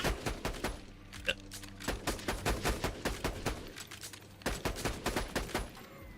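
Level 10 SMG fire in Fallout 4 on Survival difficulty, heard as loud, close bursts of rapid shots in a repeating stop-start rhythm across the whole stretch.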